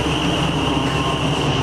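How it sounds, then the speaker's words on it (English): An outdoor blower runs steadily among several Goodman heat pumps and Midea ductless split air conditioners, a constant broadband roar with a whining tone on top, close and continuous with no talk. "That noise is that blower thingy in the background."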